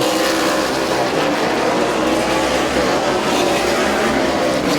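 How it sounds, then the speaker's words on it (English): Stock cars race at Midvale Speedway, a loud continuous roar of engines that holds steady throughout with no talking. "The front 2 have separated themselves from Gary Whipke and Nick Grodi in 3rd and 4th."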